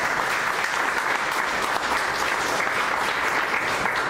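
Sustained applause from a church congregation during a Spanish-language sermon, dense steady clapping at full level throughout, with a faint voice underneath.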